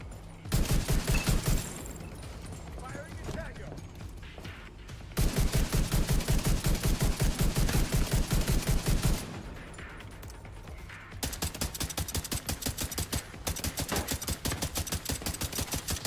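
Gunfire in a video game, three long bursts of rapid automatic fire, loud and close, separated by brief quieter gaps.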